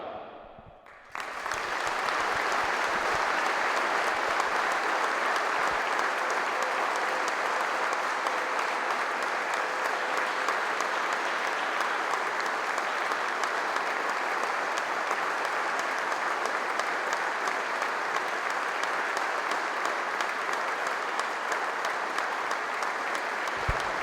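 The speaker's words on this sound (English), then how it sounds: "to come together with a huge moment of applause" A crowd at a sports match breaks into sustained applause for a tribute, a dense, steady roar of clapping that starts suddenly and keeps going without letting up.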